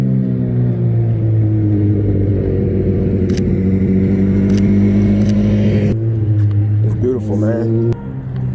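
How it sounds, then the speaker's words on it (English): Motorbikes pass along a city street, a loud, steady engine rumble that swells and rises in pitch as they approach and go by close at hand. "We got some bikes coming."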